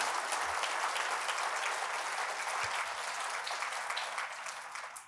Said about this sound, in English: We'll take a round of applause for that.